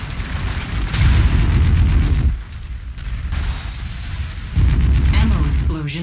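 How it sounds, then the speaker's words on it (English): In MechWarrior 5: Mercenaries, a mech's stored ammunition detonates in a series of loud, rumbling explosions with rapid crackling bursts, pausing briefly before another heavy blast erupts; a voice talks over part of the chaos. "Ammo explosion detected."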